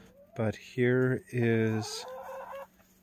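Backyard laying hens cluck and squawk nearby in a few short, loud bursts, followed by a person speaking briefly.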